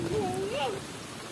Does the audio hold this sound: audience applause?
no